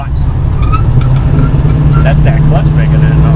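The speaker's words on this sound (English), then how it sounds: "That's that clutch making that noise." The clutch of a 1970 Dodge Challenger R/T makes a loud, steady low mechanical hum close by, with a person talking over it throughout.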